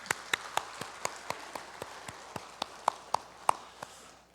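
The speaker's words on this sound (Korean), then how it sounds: "우리 예배를 섬기시는 모든 분들에게 감사의 박수 드리겠습니다." Sparse, rhythmic clapping from a church congregation giving thanks during Sunday worship, evenly spaced single claps, fairly faint and close, with no talk over them.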